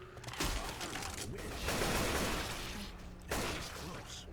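A weapon being reloaded in Left 4 Dead 2 during the No Mercy campaign on Expert: harsh mechanical clacks and rattling bursts, loud and close, in several separate bursts.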